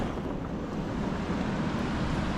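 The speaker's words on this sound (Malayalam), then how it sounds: "അടിയിലത് വെള്ളം ഒഴുകുന്നു" Water rushes continuously below a high mountain path near Kunzum Pass, a broad, steady roar mixed with wind buffeting the microphone, unchanging in level and with no voices.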